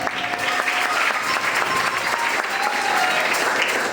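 A church congregation claps and cheers steadily as a deaconess is introduced, the applause dense and continuous throughout, with crowd voices blended in.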